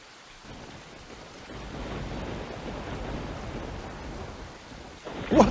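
Thunderstorm in a video game, with steady rain-like rumble building over several seconds and a sharper, louder crack of thunder or lightning near the end.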